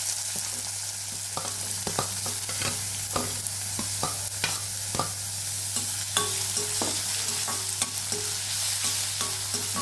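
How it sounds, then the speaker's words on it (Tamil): Chopped garlic, green chili and onion sauté in a hot pan, giving a low, steady sizzle broken by light stirring scrapes, with no voices. "இது எல்லாத்தையும் நல்லா வதக்கிக்கலாம்."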